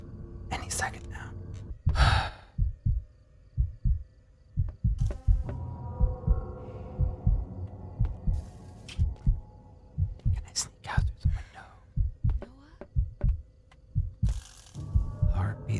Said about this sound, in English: Heartbeat sound effects aren't helping.